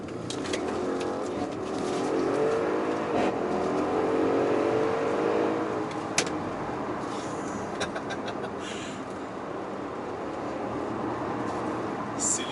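A DNA Tuning Audi RS6 accelerates at high speed on the road, its engine note rising and swelling under steady wind and road roar, heard from inside at close range.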